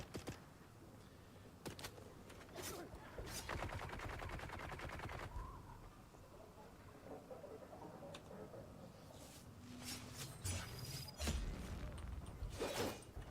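Gunfire in the Dune Awakening game, with bursts of automatic fire and sharp single shots scattered across the stretch, some rapid rattling runs between quieter gaps.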